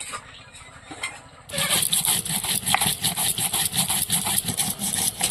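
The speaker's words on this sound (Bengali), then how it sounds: "এই আদাটা বেটে নিলাম, এবার জিরে বাটবো" Cumin being ground on a grinding stone in a kitchen, starting faint and then turning into a loud, continuous scraping and rubbing with a quick, repeated back-and-forth rhythm.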